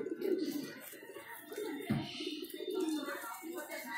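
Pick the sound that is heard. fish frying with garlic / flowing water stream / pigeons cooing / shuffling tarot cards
pigeons cooing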